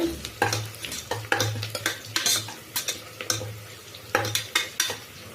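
Chicken gravy masala frying in a pan, with steady sizzling and repeated metal spoon scrapes and stirs against the pan in an uneven rhythm, close and moderately loud.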